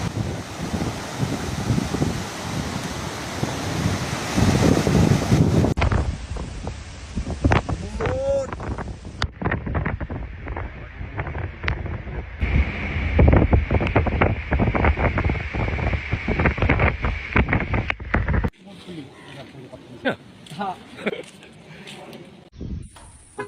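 Strong tropical storm wind roars across the Port Dickson coast, buffeting the microphone with loud gusting rumble over surf and boats, with people talking throughout and the storm easing to a lower blustery roar near the end.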